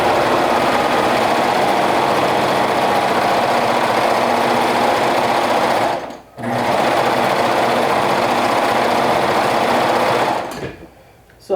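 A sewing machine stitches steadily through color-blocked rainbow dress fabric, a loud continuous whir that pauses briefly near the middle, resumes, then stops near the end.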